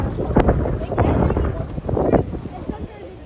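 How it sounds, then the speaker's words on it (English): Gusty wind buffets the microphone in low, rumbling bursts by the water in Prospect Park, Brooklyn, loud and close, with a voice partly audible beneath it. "See, this is how windy it is out here today."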